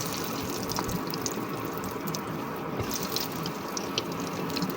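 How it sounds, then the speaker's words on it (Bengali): Lentil fritters (dal bora) frying in hot oil in a wok, giving a dense, steady crackling sizzle that runs loud and unbroken throughout with no talking. "একের পর এক তেলে আমি দিয়ে নেব।"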